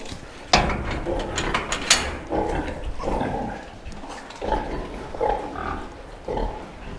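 A breeding sow grunts in a pig barn, with repeated short, rough grunts at an uneven rhythm over a steady background of metallic clanks and rattles from pen fittings. The sounds are close and fairly loud.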